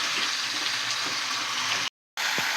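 Meat frying in a pan, a steady hiss and sizzle that breaks off for a moment of silence and then resumes with a faint clink.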